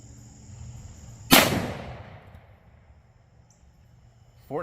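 A single close, loud shot from a 5-inch 1911 pistol firing a .45 Super Underwood 135-grain Xtreme Defender round, a sharp crack with a brief echoing tail in otherwise quiet surroundings.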